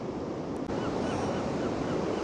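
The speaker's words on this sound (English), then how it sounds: "The waves, like I said, the tide is on its way out." Sea waves wash in at Blackpool Central Pier as the tide goes out, a continuous loud roar of surf and wind with a brief dip midway and no talking.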